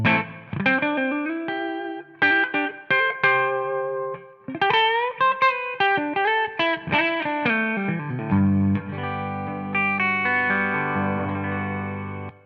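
Electric guitar through a Tonex amp model set near the edge of breakup, playing a melodic phrase of picked notes and chords with slight grit, ending on a sustained ringing chord.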